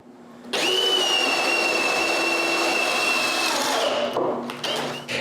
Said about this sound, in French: J'ai juste à mettre la pointe de la mèche dans la petite marque que j'ai faite et de percer.